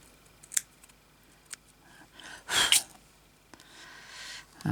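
Scissors snip through a piece of wool patchwork for a crazy-patchwork bag, with a few sharp close cuts and one loud burst of blade noise midway, then quiet room sound.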